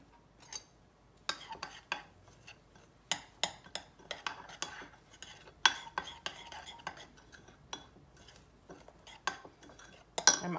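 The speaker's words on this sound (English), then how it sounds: "So one packet of the mashed potatoes with a half a cup of water, and mix it up" Mashed potato mix being stirred with water in a bowl: repeated close scraping and clinking of a utensil against the dish in uneven bursts, with quiet gaps between strokes.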